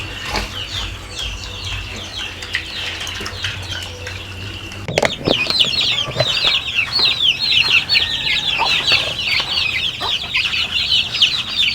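Rhode Island Red chickens cluck and squawk steadily at close range during feeding, a dense overlapping chorus that grows louder and busier midway, with scattered wing flaps and rustling.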